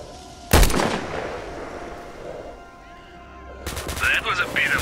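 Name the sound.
gunfire from an enemy in the video game STALKER: Shadow of Chernobyl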